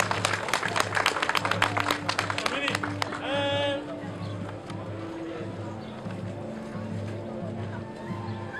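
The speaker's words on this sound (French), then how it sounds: "Merci de les applaudir s'il vous plaît pour le consulat du Japon." An audience claps for a Japanese swordsmanship demonstration at a consulate festival in Lyon, a dense patter of applause over the first few seconds that fades as a steady hum and a voice carry on.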